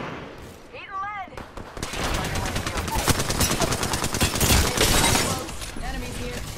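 Rapid automatic gunfire from a firefight in the Apex Legends battle royale game, loud sustained bursts of many shots over several seconds, with a player's voice speaking briefly before the shooting.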